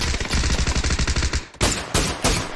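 Micro Uzi fire in a video game: a fast, even burst of about a dozen close, loud shots lasting just over a second, then a short pause and two more separate sharp bursts.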